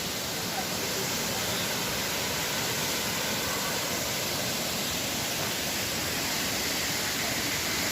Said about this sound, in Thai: น้ำตกชาลิกาครับ นครนายก ในเขตอุทยานแห่งชาติเขาใหญ่ครับ